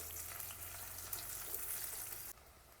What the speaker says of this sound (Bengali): পেঁয়াজগুলো ভালো করে ভেজে নেব।